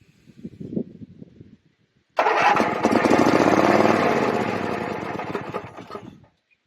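A two-cylinder engine under repair catches after a few quiet low knocks, then runs steadily and loudly for about four seconds before cutting out.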